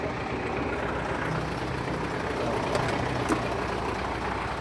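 A used truck, advertised as in running condition, with its engine idling in a steady, unbroken low rumble at close range for the whole stretch.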